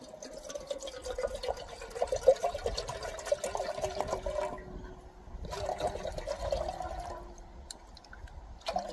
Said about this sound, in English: I'm gonna pour all my water in there except for a little bit because I'll need some knockdown